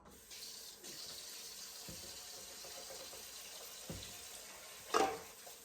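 Water runs steadily from a kitchen sink tap during dishwashing, with a soft continuous splash and a brief louder clatter near the end.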